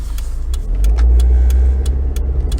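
A car's engine rumbles loudly and steadily from inside the cabin while driving, with a deep, smooth drone and a series of faint, regular ticks above it.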